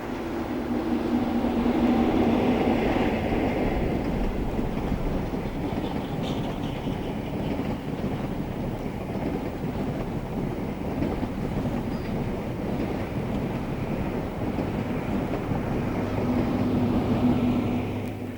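A Great Western HST in a short-lived livery roars past with a sustained, loud rumble and rail noise lasting the whole passage, steady throughout with a slight swell near the start and end.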